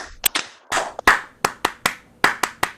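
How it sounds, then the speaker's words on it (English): An audience at a product launch event claps in about a dozen sharp, separate claps spread over a few seconds, loud and close, with no voices. "And of course, Edmark International clap to all of you. 1, 2, 3, go!"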